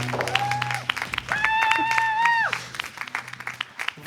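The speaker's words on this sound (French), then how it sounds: "On applaudit" Audience applause on a comedy game show, crowd clapping under a host's talk and a sustained whistle-like tone, with cheering voices mixed in.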